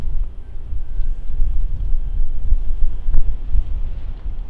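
Strong wind buffets the microphone on a fishing boat, a gusty, low rumbling roar that surges and fades unevenly throughout, close and loud with no voices.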